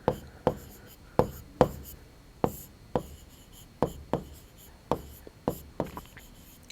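A pen writes on paper in a worksheet, making a series of short, close scratchy strokes in an irregular rhythm, with nothing else in the background.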